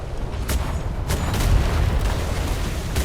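Ship's cannons firing a starboard broadside in a naval video game, a rapid run of heavy booms rolling into one another at close range, loud and dense, with no talk.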